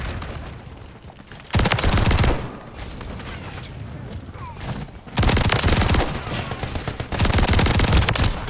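Bursts of rapid gunfire in a first-person shooter video game, loud and close, come in two long volleys separated by quieter stretches of game ambience.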